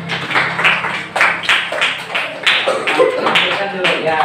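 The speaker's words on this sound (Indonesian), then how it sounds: "Ya, tepuk tangan dulu." A classroom of students claps hands in uneven bursts, several loud rounds of clapping rising and falling, with voices faintly mixed in.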